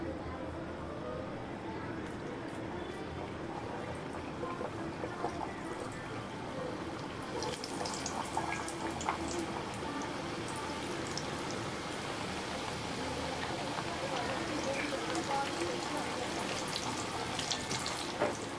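Chirote pastries frying in hot oil over low heat, a steady, dense sizzle and crackle that continues throughout without a break and grows slightly busier midway.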